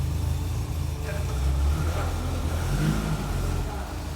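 A small classic car's engine revs and rumbles nearby, rising and falling in pitch over a few seconds, with people talking over it.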